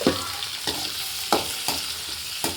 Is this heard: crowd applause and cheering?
no